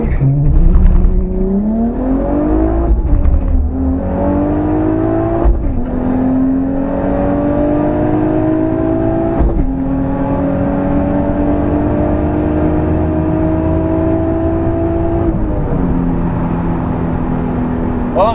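An Infiniti G35 at a drag strip does a burnout, its engine held at high revs in long sustained wails that rise and step between pitches, loud and continuous throughout with no talk.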